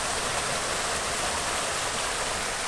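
A mini golf course waterfall pours in a steady, continuous rush of splashing water, close and even in level with no voices.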